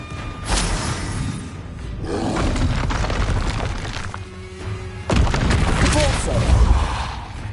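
Explosion spells in Hogwarts Legacy go off as loud, heavy booms, first a burst, then a rolling blast, and a final hard detonation with crackling debris.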